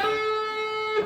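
Electric guitar plays a short lick from a solo, a single sustained bright note ringing alone and close for about a second, then a quick attack at the end.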